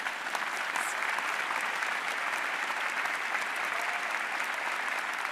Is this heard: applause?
yes